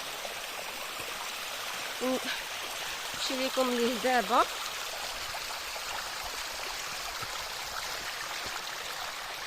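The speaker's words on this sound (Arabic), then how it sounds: "كاين شلال" A waterfall and stream at Ait Lahcen near Agadir, Morocco, rush in a steady, even hiss from start to finish. A person speaks briefly over the water partway through.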